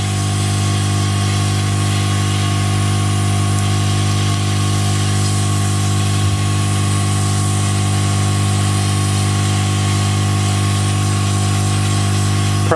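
Hot air rework nozzle blowing on a BGA chip during destructive removal from a circuit board, a steady loud rushing hiss over a constant low hum, unchanging throughout.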